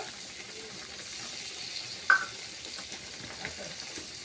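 Onions frying in oil with garlic for tomato chutney, a soft steady sizzle with a faint clink of a utensil near the middle, no talking.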